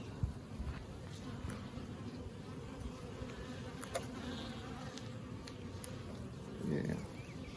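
Honey bees buzz steadily around drawn comb on shallow frames during a hive check, a dense, continuous hum close to the microphone with light handling noise and a brief swell near the end.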